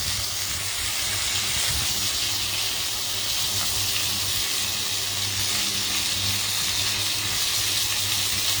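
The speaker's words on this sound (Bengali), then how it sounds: "প্রত্যেকটা পটল থেকেই কিন্তু এইভাবে কিন্তু তেল ছিটকাচ্ছে" Pointed gourd (potol) frying in oil, a constant dense sizzle and hiss of spattering oil running steadily throughout, close and even with no talk.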